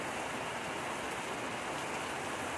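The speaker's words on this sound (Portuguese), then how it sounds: "Olha que bênção de chuva." Steady rain falls over a backyard garden with fertilized plantings and a palm tree, a continuous dense hiss with no gaps and no voices.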